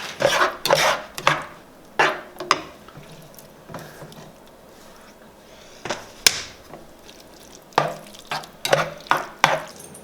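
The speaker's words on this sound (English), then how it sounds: "I kind of just sprinkle it in and then stir it." Keto hamburger helper sauce thickened with xanthan gum being stirred in a pan, heard as bursts of scraping and clinking separated by quieter gaps of low simmering.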